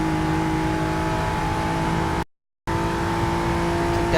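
A Ford GT engine in Forza 6 roars loud and steady under full throttle in a race, cut by a short dropout of silence before the drone resumes.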